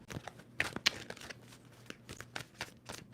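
A deck of tarot cards is shuffled close by in a series of short, crisp riffles and papery slaps. The bursts are spaced irregularly against a quiet background.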